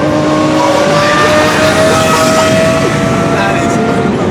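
Lamborghini Aventador supercar engine revving hard with sharp, brutal upshifts, loud and continuous at close range, a steady roar with fluctuating pitch throughout.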